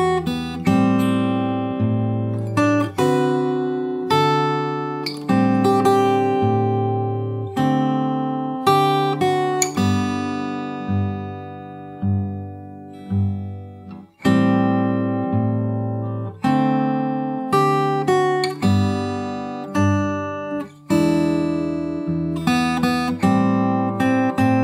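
Acoustic guitar fingerpicks the end of the second chorus of a song, with steady plucked chords and melody notes, close and clear, unaccompanied and without voices.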